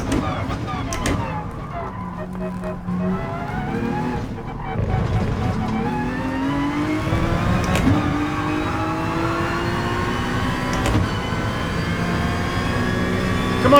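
Race car engine in Gran Turismo Sport revving hard through gear changes, with rising and falling pitch sweeps, downshift blips and tire squeal, loud and continuous while someone talks over it.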